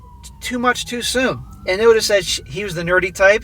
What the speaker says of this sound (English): Here come the sirens again.